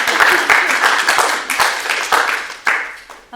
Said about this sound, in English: Please give Julia a big round of applause.